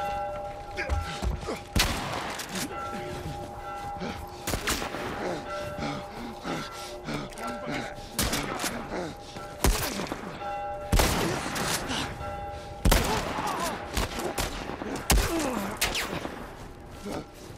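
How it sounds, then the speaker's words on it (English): Gunfire in The Last of Us Part I, a run of sharp loud shots landing every second or two across the stretch, mixed with game ambience and a player talking in between. "Now where am I getting shot from?"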